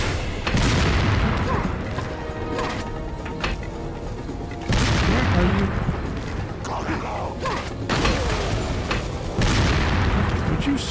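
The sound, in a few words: dynamite explosion in Resident Evil 4 video game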